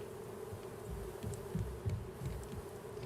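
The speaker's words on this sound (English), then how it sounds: "if I could turn the bee noise off, I wouldn't mind it so much" Steady droning bee buzz from the survival video game Raft, a continuous insect hum filling the whole stretch at moderate level, alone without voices.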